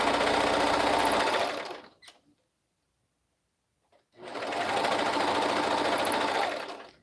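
A sewing machine fitted with a 90/14 stretch needle stitches slowly over thick seams, running in two steady bursts separated by a short silent pause.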